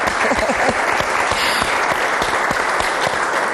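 Sustained audience applause in a church, dense clapping from many hands filling the space loudly and evenly throughout.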